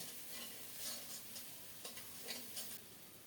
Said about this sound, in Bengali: প্রথমে দেব পেঁয়াজ বাটা নেড়ে চেড়ে পেঁয়াজটাকে একটু ভেজে নিচ্ছি